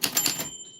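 A 1940s-style manual typewriter pecking out a name, a quick run of about five sharp clacking keystrokes close up, ending abruptly with a faint lingering ring.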